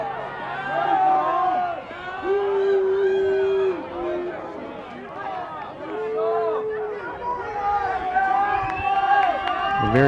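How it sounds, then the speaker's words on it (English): A loud, vocal crowd at a college women's soccer match between Carthage and Augustana yells, whistles and calls out in a continuous roar of overlapping voices, with a commentator's voice carrying through it. "A very vocal crowd down here."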